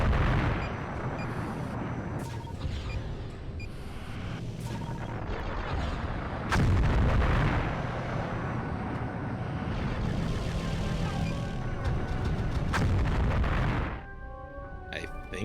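Missile launch and explosion from the space combat game Colony Wars: Vengeance, loud booming blasts around the six-second mark over a dense rumbling battle soundtrack, fading into quieter tones at the end.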